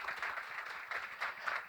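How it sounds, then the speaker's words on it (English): Faint audience applause at a business conference in Thailand honouring four speakers, a soft, continuous patter of many hands clapping, distant and steady with slight swells. "please join me in giving a big round of applause to all of the four gentlemen"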